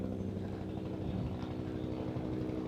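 A helicopter passing overhead makes a steady low rumbling drone with a rhythmic rotor throb that holds at an even level throughout, with no talk over it.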